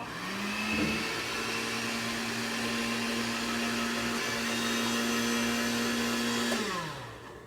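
A blender purees chickpeas, whirring steadily at a constant pitch for several seconds, then winding down at the end, over a low background hum.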